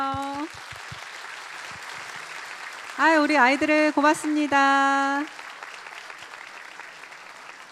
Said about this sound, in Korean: 박수도 한번 쳐주세요